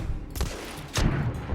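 Covering gunfire in The Order: 1886, two sharp bursts of shots with a booming low end, close and loud, with no talk.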